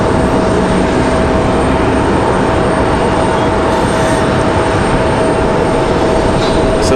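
A Southwest Airlines airliner at Raleigh-Durham International gives off a continuous, fairly loud jet rumble with a faint steady whine running through it, and no voices.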